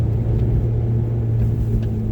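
A 2006 Ferrari F430 Berlinetta cruising on back roads, its engine giving a steady low rumble with road noise, constant and close, no talking.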